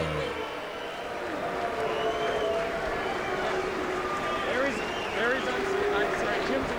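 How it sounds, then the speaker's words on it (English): An arena crowd at a boxing doubleheader giving a polite round of applause for the reigning undisputed lightweight champion of the world, steady clapping and murmur under a commentator's continuous talk. "As the crowd begins to file out with a polite round of applause for the reigning lightweight champion of the world"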